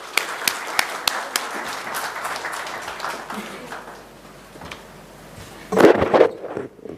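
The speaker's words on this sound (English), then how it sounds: "Please help me welcome with a big round of applause, Ms. Isha Sharma." An audience at a windows and doors exhibition event in Bangalore bursts into applause to welcome a speaker, a brief swell of clapping near the end following scattered taps and a quiet room murmur.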